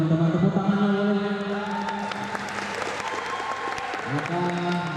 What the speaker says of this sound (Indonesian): tepuk tangannya boleh